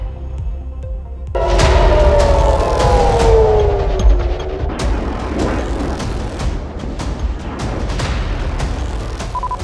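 An air raid siren rises and falls over a low rumble at midnight during missile strikes, joined by scattered sharp bangs and cracks; the wail fades into ongoing distant noise.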